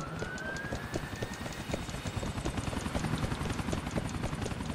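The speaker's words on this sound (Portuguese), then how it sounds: "Só que o cara vai fugir com o helicóptero." A helicopter's steady rotor thump in GTA 4 on PS3 chops rapidly throughout, with a faint rising whine above it, continuous and moderately loud.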